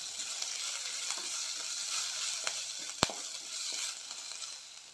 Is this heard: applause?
no